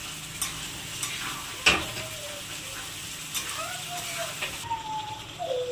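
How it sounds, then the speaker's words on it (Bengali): Beaten yogurt stirred into frying potatoes in a pot for chicken biryani, a steady sizzle with scraping spoon strokes and one sharp clink, close, with brief faint voice sounds. "দইটা দিয়ে ভালো করে নাড়তে হবে।"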